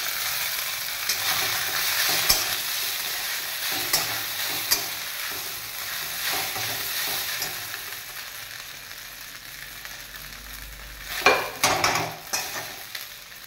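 Sago pearls fry and are stirred in a pan, giving a steady soft sizzle with scraping stirs and a few louder clinks of the spoon near the end, with no talking.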